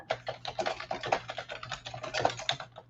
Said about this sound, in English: Typing them all in there.